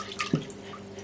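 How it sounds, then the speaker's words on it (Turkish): Brief splashes of water from a kitchen tap as eggplant is rinsed for a fried dish, a couple of quick close bursts over a faint steady trickle. "ben birkaç kez yıkadım çeşmenin altında. Böyle yıkayalım."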